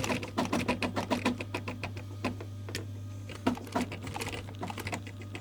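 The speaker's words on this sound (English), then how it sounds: "So I'll sew these two on now." Rapid bursts of sewing-machine stitching on a Land Rover Defender canvas top, several short runs with pauses between them, close and fairly quiet over a steady low motor hum.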